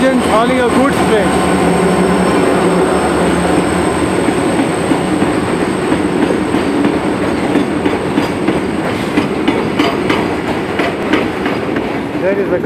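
A goods train rolls past on the tracks near Doodhsagar, a loud, steady rumble with rhythmic clickety-clack of wagon wheels throughout.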